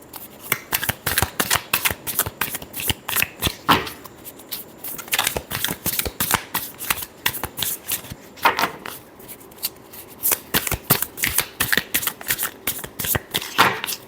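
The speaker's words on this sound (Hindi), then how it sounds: "Last shuffle." Tarot cards being shuffled by hand during a Taurus reading, a steady run of crisp riffling flutters and slaps repeating for several seconds with brief pauses, fairly close and alone without speech.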